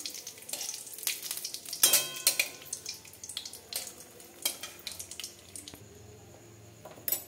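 Bay leaf and dried red chillies crackle and fry in hot mustard oil in a kadai, with bursts of sizzling, a few sharp pops and clatters, and quieter stretches between, close and moderately loud with no talking.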